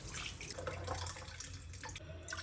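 Rice being washed in water inside a rice cooker pot, with faint running, swishing and dripping water sounds throughout.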